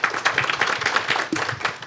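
Forum audience clapping to welcome a newly introduced AI professor panelist, a lively, uneven patter of many individual claps close by, continuing steadily throughout.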